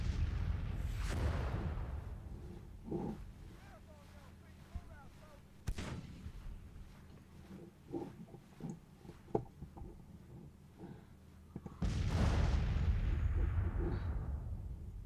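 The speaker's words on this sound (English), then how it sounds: "I need to silence the artillery." Artillery cannon fire in the strategy video game Grand Tactician: heavy booming blasts at the start, near six seconds and near twelve seconds, each rolling out into a rumble, with scattered smaller reports and crackles in between.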